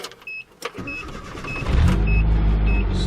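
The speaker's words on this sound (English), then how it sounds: "this is the first time that I'm going to try to crank it up with the new starter in the vehicle" A Nissan D21 Hardbody pickup with a newly fitted starter cranks with a short whirring turnover, then the engine catches near the middle and settles into a loud, steady idle close by.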